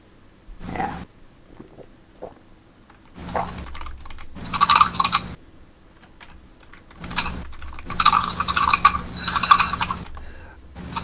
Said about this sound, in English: I can hear myself typing through the echo